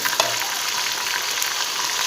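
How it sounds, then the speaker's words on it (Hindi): Tomatoes and green chilies fry in hot oil for kaddu gosht, a loud continuous crackling sizzle heard up close with no talk. "टमाटर और हरी मिर्च डाल के इसे अच्छी तरह भूनना है।"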